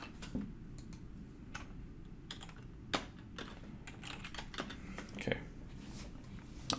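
Computer keyboard typing a sudo rmmod command in a Linux terminal, quiet scattered key clicks in an uneven rhythm over a low background hum, no voice.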